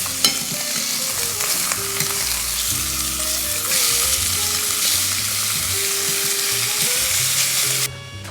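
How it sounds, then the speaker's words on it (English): Pork searing in oil in a pan for pozole, a loud continuous sizzle with stirring and scraping throughout, close, and a brief drop near the end. "Once that pork is all seared off"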